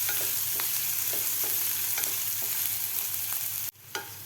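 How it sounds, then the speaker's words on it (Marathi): Chopped onion frying in a pan until lightly browned, for a tangy raw-mango pithla: a steady close sizzle with a few soft stirring clicks, cut off abruptly near the end. "थोडासा ब्राऊन कलर होईपर्यंत आपल्याला कांदा फ्राय करून घ्यायचा आहे."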